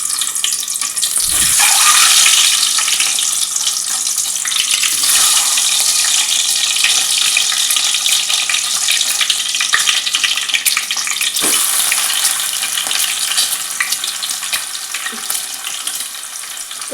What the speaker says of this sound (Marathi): जे एग्स आहेत, अंडी आहेत, ते मी तेलात फ्राय करते